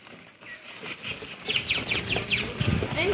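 Crows caw at the Chinese Garden in Singapore, a short series of harsh, repeated calls fairly close by and rising in loudness over a few seconds against an open-air background.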